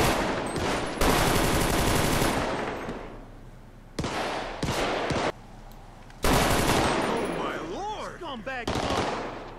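Repeated bursts of AK rifle fire in a GTA game during an army raid on a hillside favela in Rio de Janeiro, loud sustained automatic volleys with short gaps and echoing shots, with someone talking over parts of it.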